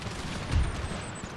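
Cannon fire in the strategy game Empire 2 during a battle, heard as a muffled low boom midway through a steady wash of distant gunfire and battlefield noise.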